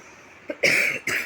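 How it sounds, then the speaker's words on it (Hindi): Two short, harsh coughs close to the mic, the second briefer than the first, with a small breathy sound just before. "थोड़ा खांसी है मेरे को"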